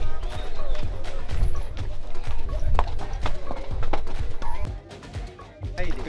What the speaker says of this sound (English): Look at your horse walking on the wall.